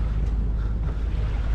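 A boat engine runs at a relaxed 1500 rpm, a steady low rumble mixed with wind and water noise, with no talk.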